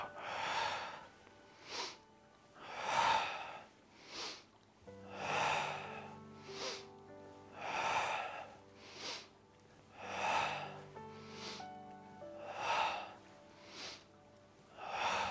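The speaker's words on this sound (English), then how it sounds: "Breath in and out." Slow, deep breathing in and out during a qigong exercise for digestion, about six audible breath cycles with soft background music and no talking.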